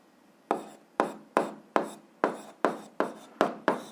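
Pen strokes on paper while working an 8th-grade algebra exercise: eight short, sharp scratchy strokes at a steady rhythm, each starting crisp and trailing off, close up and alone without talk.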